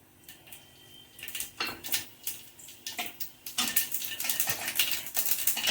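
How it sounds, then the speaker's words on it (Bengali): Mustard seeds and dried red chillies tempering in hot oil, a burst of sharp crackles and pops that grows denser and steadier, close and fairly loud. "তো এখানে একটু সর্ষে ফোড়ন আর একটু শুকনো লঙ্কা একটু ফোড়ন দিয়ে দিলাম।"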